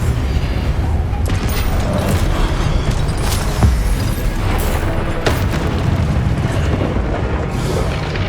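Spell blasts and magical combat effects from Hogwarts Legacy on PlayStation 5, a dense, loud roar of booming bursts and crackling impacts with a few sharper hits, continuous throughout, with faint voice in the mix.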